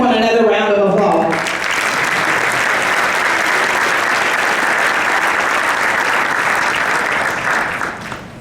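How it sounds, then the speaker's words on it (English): Loud sustained clapping from a conference audience at a Running USA event, rising after a brief voice at the start and carrying on steadily for several seconds before easing off. "Let's give everyone another round of applause."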